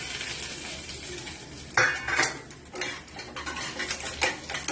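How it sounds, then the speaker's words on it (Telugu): Chana dal, urad dal, mustard seeds and dried red chillies hit hot oil in a kadai for Bombay chutney, a loud clatter of seeds and a metal spoon stirring over a crackling sizzle, no talking. "పోపు శనగపప్పు, మినపప్పు, ఆవాలు, మిరపకాయను ఇందులో వేసేస్తున్నాను"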